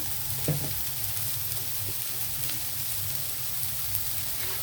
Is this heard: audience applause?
no